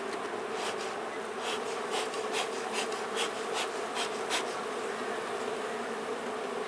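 Agitated honeybees hum in a thick, unbroken swarm drone at an open hive being inspected, close and steady, punctuated by a run of light scraping or tapping sounds.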